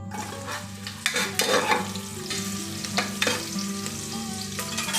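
Half an onion frying in a little oil crackles steadily in a pan, with a few louder stirring scrapes and utensil knocks cutting through the constant sizzle.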